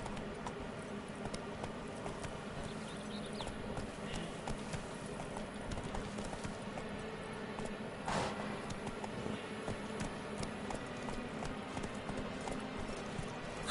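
Hoofbeats of a galloping horse in The Witcher 3: Wild Hunt, a steady rapid clip-clop that runs without a break under faint game ambience, fairly close and even in level.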